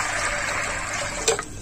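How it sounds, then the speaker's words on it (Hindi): Water pours steadily into a cooking pot holding peas, turmeric, spices and oil, a close continuous gushing stream that ends with a brief splash, with no talking. "अब इसी के अंदर पानी डाल देंगे"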